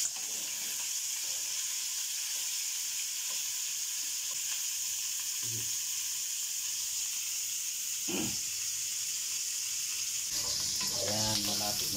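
Liempo pork belly fries in a pan until brown, giving a continuous bright hiss and sizzle with occasional clacks of a utensil and brief soft voices in the background near the end.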